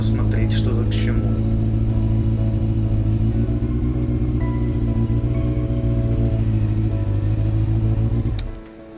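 A loud car creeps slowly around the grounds of the Marfino estate, its steady, close engine drone rumbling low and even for about eight seconds before cutting off abruptly near the end.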